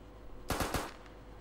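A quick burst of three or four loud gunshots in rapid succession in Minecraft, then fading echo over a low steady background hum.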